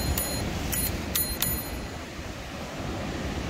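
A bell on a bicycle fitted with a basket rings about five times in quick, uneven strikes over the first second and a half, bright and close, over steady outdoor wind-like background noise.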